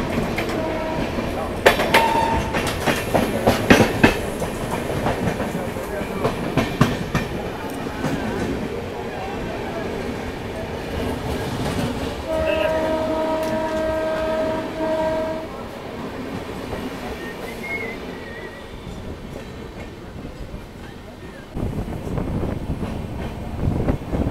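A New Jalpaiguri–Howrah Shatabdi passenger train passes with steady rumbling and clattering wagons, its horn sounding in a sustained blast midway through, with brief rattling bursts early on.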